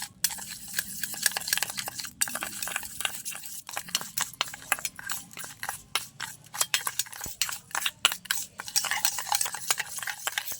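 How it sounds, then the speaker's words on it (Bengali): Sugar and two other skin remedy ingredients being stirred together in a bowl, a dense run of rapid clicking scrapes and taps from a utensil that carries on without pause and with no speech. "এবার তিনটে উপকরণ একসাথে আমি ভালো করে মিশিয়ে নেব। মানে চিনিটা গলে যাওয়া পর্যন্ত ভালো করে মিশিয়ে নিতে হবে।"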